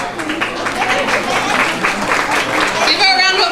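Audience applause for a guest at a hospital tree-lighting event, a steady dense patter of many hands clapping throughout, with voices mixed in and a brief vocal tone near the end.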